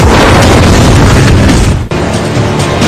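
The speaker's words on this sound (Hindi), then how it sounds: "ये है डिमोलिशन रेंज जहां टारगेट को उड़ाने की ट्रेनिंग चल रही है" A blast destroys a target on a military demolition range during joint India–US army drills, a dense, sustained roar of rumble and debris that stays loud throughout, with a brief dip near the end.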